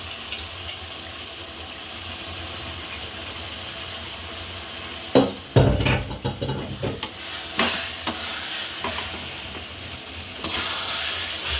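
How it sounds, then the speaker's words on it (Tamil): Chicken pieces added to a pan of sautéed tomatoes for a Sunday chicken gravy, with a sudden burst of sizzling and stirring scrapes that settle into steady frying, close and clear without talk. "தக்காளி நல்லா வதங்கிச்சு. சிக்கன் சேர்த்துக்கலாம்."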